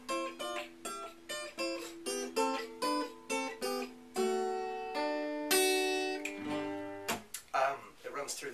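A guitar plays the intro lead of a song, a bouncy run of clear plucked notes in a steady repeating rhythm, then a few sustained notes, close and alone.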